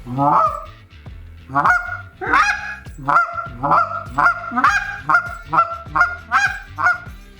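A hand-held goose call, cupped and blown, sounds a run of about a dozen loud, clipped honks on the middle goose note, close up and in a steady, even rhythm.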